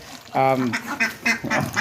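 Ducks quack loudly in short nasal bursts, several calls in quick succession, while being fed soaked rice in the morning; a close, busy sequence of honking quacks.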